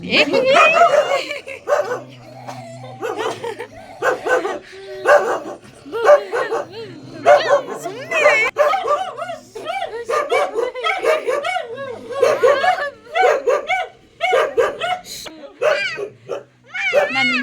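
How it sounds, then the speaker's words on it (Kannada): Dogs kept in a kennel at a house bark, yip and whimper repeatedly at close range, mixed with people talking throughout. "ನಾಯಿಗಳು ನೋಡಿ ಇವ್ರ ಮನೇಲಿ ಗೂಡಿಗೆ ಹಾಕಿದ್ದಾರೆ"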